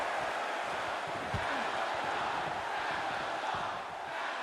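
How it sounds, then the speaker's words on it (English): Crowd noise from the arena audience in the wrestling video game AEW Fight Forever, a dense, continuous roar of cheering fans that holds steady and loud throughout. "Fans cheering for Abaddon"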